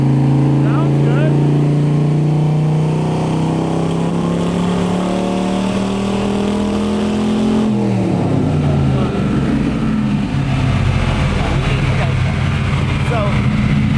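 An LS V8 running on three lawn mower carburetors drones loudly and steadily nearby, its pitch easing slightly down partway through, with a voice speaking over it.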